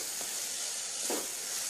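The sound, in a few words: dal (lentils) frying in oil on medium flame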